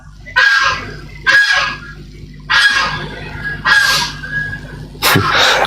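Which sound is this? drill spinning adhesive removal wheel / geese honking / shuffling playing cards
geese honking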